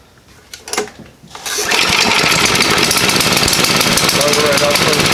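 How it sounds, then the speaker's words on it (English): A tiny go-kart engine, billed as the world's smallest, jumps from a quieter idle to a loud, steady high-rev buzz as the throttle opens and holds. It is close and continuous after a brief lower-level start. "We'll just turn the throttle up there a little bit."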